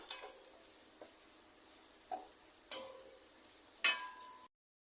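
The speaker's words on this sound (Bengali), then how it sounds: "ক্যাপসিকাম দিয়ে এক মিনিটের মতো ভেজে নিচ্ছি" Capsicum frying in a pan for egg pilaf, a quiet steady sizzle with a high hiss and a few soft stirring knocks, no talk, ending abruptly after about four and a half seconds.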